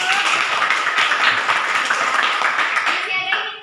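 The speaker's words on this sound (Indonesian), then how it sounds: "tepuk tangan dulu." Classroom of students applauding after a group answer, quick overlapping claps close by in a short even burst, with faint voices underneath, tapering off at the end.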